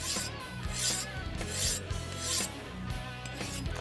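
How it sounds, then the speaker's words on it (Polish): A knife drawn repeatedly across a diamond sharpening plate, giving steady rasping strokes about twice a second, close and fairly quiet, with no talk. "Ostrzymy delikatnie, ale mimo to ten diament pracuje i on ściera."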